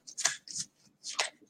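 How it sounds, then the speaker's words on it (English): Oracle cards shuffled by hand in a few short, crisp bursts of riffling and flicking, close and fairly quiet, with brief pauses between and no talking. "As I'm shuffling these cards"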